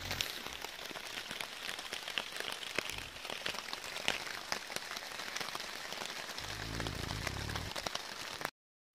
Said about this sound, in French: On adore la pluie.